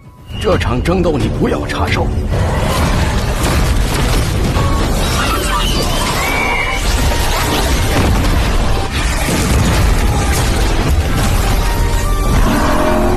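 Loud, continuous animated battle din from the donghua Journey to Immortality, with booming blasts of light and crashing impacts, dense and sustained throughout, with voices mixed in.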